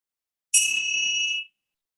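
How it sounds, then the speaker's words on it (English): A single bell is struck once, giving a clear, bright ringing tone that holds for about a second and then stops abruptly, heard alone in a quiet room. "I will strike a bell."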